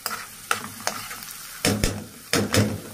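Corn oil sizzles steadily as onion and garlic fry, with sharp scraping bursts from a spoon stirring the pan at irregular intervals.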